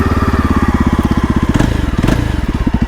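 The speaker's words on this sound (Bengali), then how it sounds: "তো বাইকের সাউন্ডটা তোমাদের শুনিয়ে দিই।" A 2022 Yezdi Adventure motorcycle engine idles close by, loud and alone, with a steady rapid thumping pulse and a couple of brief blips.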